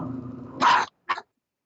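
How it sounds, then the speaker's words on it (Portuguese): A dog barks in two short bursts, the first loud and close, the second briefer, after a low hum of background sound; a quiet nighttime room setting with no talking. "Tem um cachorro latindo aí."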